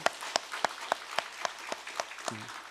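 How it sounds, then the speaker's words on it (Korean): A church congregation claps in thanks and praise at a Korean Methodist Sunday service marking the church's 71st anniversary, slow steady claps in a regular rhythm, fairly close and clear, with no one speaking over them. "우리 하나님께 감사와 찬송의 박수 한번 올려드릴까요?"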